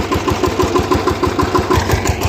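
A tractor engine with horn-like front fittings runs steadily nearby, its low rhythmic chugging pulsing evenly at idle with a mechanical clatter on top and no voices.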